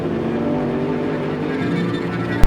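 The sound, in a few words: race car engine backfire blowing out exhaust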